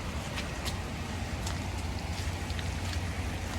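Rain patters steadily over an outdoor classic car collection, a dense hiss of drops on surfaces with a few sharper splashes standing out, continuous and even throughout.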